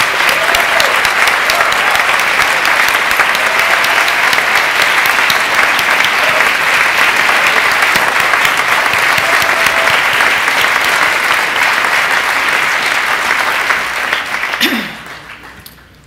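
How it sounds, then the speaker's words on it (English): Sustained, dense applause from a large audience at a rabbinic ordination ceremony, honoring faculty and staff, steady and loud for about fourteen seconds before quickly fading out. "join me in a round of applause to acknowledge their superb leadership"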